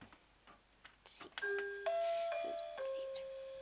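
A doorbell chimes at a house in a game, sounding a few clear, ringing ding-dong tones that sustain and overlap at moderate volume.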